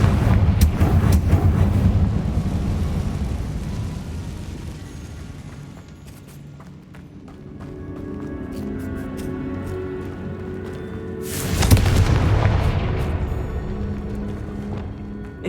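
Confringo spell blasts in Hogwarts Legacy combat: loud, rumbling booms that swell and fade, with a big fresh explosion hitting near the end over dense, continuous battle noise.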